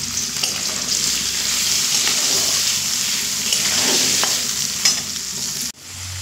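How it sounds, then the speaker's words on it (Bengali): Potatoes seasoned with salt and turmeric fry over a medium flame, giving a steady close sizzle with occasional stirring scrapes, cutting off abruptly near the end. "আলুগুলো মিডিয়াম ফ্লেমেই ভাজবো"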